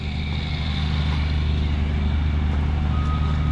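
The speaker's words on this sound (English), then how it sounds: "There goes another dump truck." A dump truck rumbles past on a road near a creek park trail, its steady engine drone joined by repeated high reversing beeps at moderate distance.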